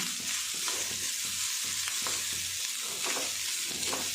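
Grated coconut and fennel seeds dry-roast in a pan with a steady close sizzle and repeated scraping stirs, with no talk.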